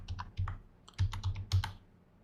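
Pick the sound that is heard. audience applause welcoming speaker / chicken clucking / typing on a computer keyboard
typing on a computer keyboard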